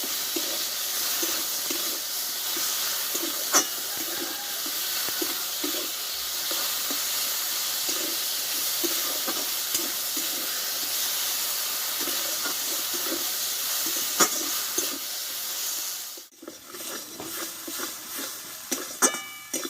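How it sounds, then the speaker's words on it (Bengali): Ginger and tomato sauté in a pan with salt for a Bengali-style vegetarian brinjal dish, giving a steady close sizzle and hiss with small stirring clatters throughout, easing briefly near the end before resuming. "দিয়ে আদা টমেটোটা আমি ভালোভাবে একটু কষে দেবো"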